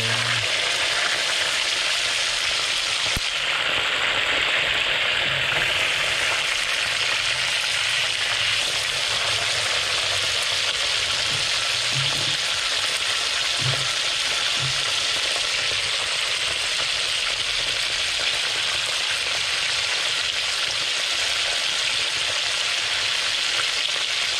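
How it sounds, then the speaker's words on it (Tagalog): Oil sizzles and crackles steadily as grouper fries in a hot pan for a long stretch, a constant bright frying hiss with occasional soft pops. "tapos na po natin na prito yung ating lapu-lapu"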